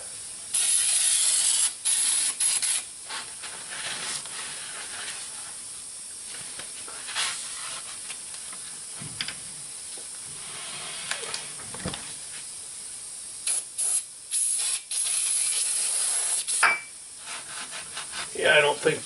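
Brake cleaner hisses from an aerosol can onto the rear axle of a Chevy 2500 HD pickup in repeated bursts of varying length, close and loud, with quieter rubbing and handling noises between sprays.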